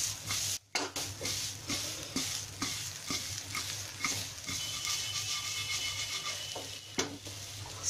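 Fresh coriander leaves being stirred into dry arbi (taro root) sabzi in a pan, with a steady soft sizzle and repeated scraping spoon strokes, close and alone.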